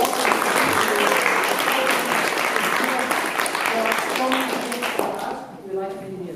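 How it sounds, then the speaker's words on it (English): An audience at the Paramount Theater gives a sustained round of dense, loud applause. Near the end it thins out and fades, and a voice begins speaking as the clapping dies away. "Let's make sure that we give them another round of applause."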